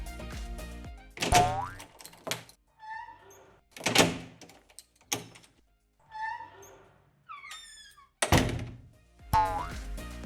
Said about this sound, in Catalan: Ara sentirem el so que fa una porta al tancar-se.